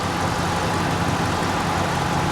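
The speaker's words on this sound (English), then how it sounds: "Yeah, it's a good sounding engine." A diesel truck engine idles steadily and close by, a continuous low rumble with a slight exhaust bleed at the back and the engine cover missing, with no talking over it.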